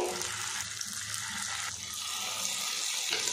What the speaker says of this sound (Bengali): এবার এর মধ্যে ছোট ছোট বড়া করে দিয়ে দেব।